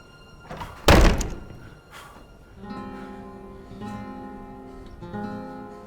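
A single heavy door thunks shut, close and loud, in an Old West setting, with a low hum and faint background activity continuing after the slam.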